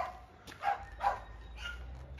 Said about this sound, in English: them dogs there ain't playing any games